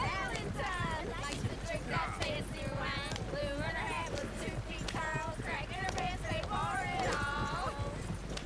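Horse hooves clip-clop at a steady pace in the video game Red Dead Redemption 2, beneath continuous overlapping talk, with the voices louder than the hoofbeats.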